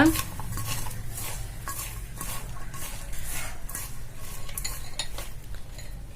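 A spoon stirs vegetable bonda mixture in a bowl, making close, rhythmic scraping strokes that repeat about a dozen times with no talk.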